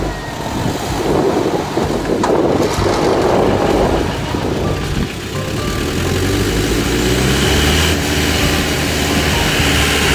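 An off-road vehicle's engine drones loudly and steadily as the driver applies throttle to pull free in the rough terrain beneath Mount Genie in western Sichuan, holding a dense rumble for about ten seconds.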